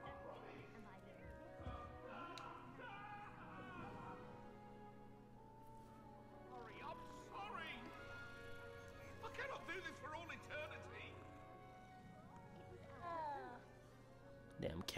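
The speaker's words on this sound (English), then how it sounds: "Damn cat" A cat in the video game Hogwarts Legacy meows repeatedly in wavering, drawn-out cries, mixed in with game sounds while a person talks over it throughout.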